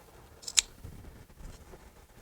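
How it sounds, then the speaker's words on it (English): Scissors snip once, a short sharp cut while trimming ribbon on a sunburst hair bow, close and fairly quiet against a faint room background. "This one, I am going to go ahead and trim just a little bit."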